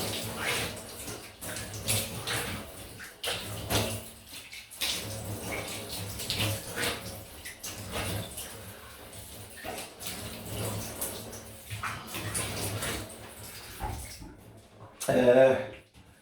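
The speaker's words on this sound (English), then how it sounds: "you shouldn't be having to listen to my splash" Water splashes and runs as a shaving razor with a Karve Christopher Bradley plate D is rinsed, a steady wet wash of sound with a louder splash near the end, while someone talks over it.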